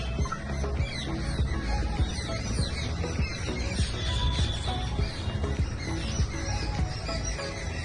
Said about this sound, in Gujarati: પક્ષીઓની અવાજ તમે સાંભળી શકો છો.